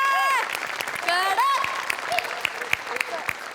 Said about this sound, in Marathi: सो बनेसाठी एकदा टाळ्या